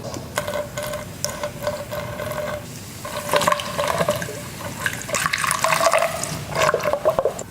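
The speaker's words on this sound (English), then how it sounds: "next we're going to start pouring it in and filling each cell." Baking soda solution poured slowly into the cells of a dead battery being rebuilt, giving a continuous trickling, gurgling liquid sound with bursts of splashing, fairly close and loud.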